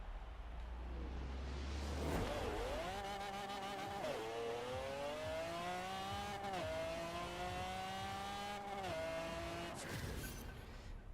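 A 1900-horsepower drag Mustang in Forza Horizon 4 screams through repeated gear-shift sweeps, its engine note climbing and dropping sharply at each change, loud and continuous for the whole run with no talk.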